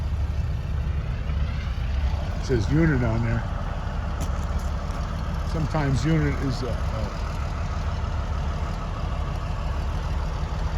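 A 1948 Caterpillar diesel engine idles at a show with a steady, low, even rumble that runs unbroken throughout, while someone talks nearby.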